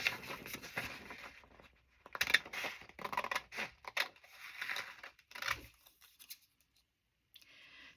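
Scissors trim paper in a journal, a series of close, crisp snips and rustling cuts in uneven bursts, then falling quiet near the end.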